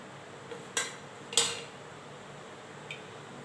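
In a home kitchen, a pressure cooker set on the stove and utensils bump with two sharp metallic clinks and a fainter tap later, over quiet background.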